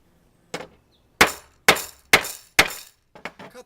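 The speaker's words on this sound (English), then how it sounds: "we take the kite and use the cutting tool" A cutting tool bites through kite material in a few sharp snapping cuts, five distinct clipped strikes about half a second apart, followed by a couple of fainter quick clicks, loud and close with no talk.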